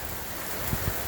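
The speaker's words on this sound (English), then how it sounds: "like gutter falls with the rain like this" Rain at night pours steadily down gutters during a tornado, heard as a broad, constant wash of water noise with a couple of brief low thumps near the end.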